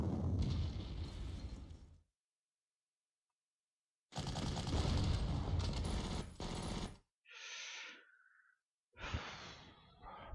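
Units fire on a bunker in the WWII strategy game Panzer Corps, producing loud bursts of artillery and explosion effects separated by silent gaps, followed by shorter whooshing blasts.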